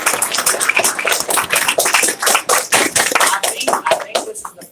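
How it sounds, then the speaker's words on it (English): Applause breaks out for a swimmer at a swim team banquet, a dense, steady wash of many hands clapping that runs without a break for several seconds, with scattered voices mixed in. "give him a round of applause"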